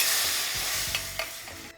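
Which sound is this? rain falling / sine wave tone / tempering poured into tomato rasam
tempering poured into tomato rasam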